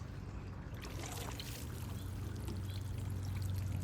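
Water poured from a can or hose onto a Carolina Reaper hot pepper plant in a summer garden bed, a steady close splashing trickle running continuously and growing slightly louder, with no talking.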